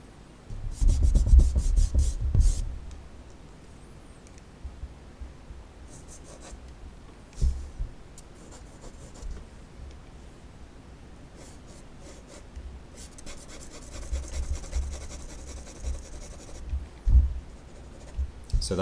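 A pencil sketches the outline of a tree on paper with soft, close scratching and rubbing strokes in irregular bursts and short pauses, with no talking.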